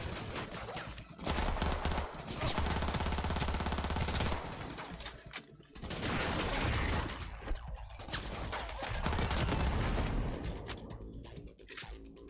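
Smart rifle fire in Cyberpunk 2077 comes in long sustained bursts of rapid shots, loud and close, broken by brief pauses and ragged single cracks between volleys.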